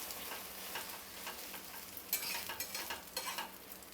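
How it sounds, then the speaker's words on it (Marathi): A cheese omelette fries in a pan over medium gas, giving a soft steady sizzle with a few light scraping and tapping touches from a spatula near the end. "आता खालची साईड पण आपण चांगली भाजून घेऊया।"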